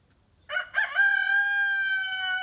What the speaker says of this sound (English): You can always tell his crow from all the others because it's so high pitched.